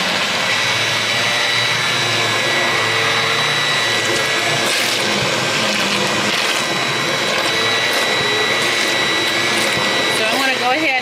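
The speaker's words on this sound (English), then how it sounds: "use my hand immersion blender and just get everything in here all blended up really good" A loud, continuous high-pitched motor whir of a handheld immersion blender blending peach butter, running steadily throughout, with a faint voice underneath.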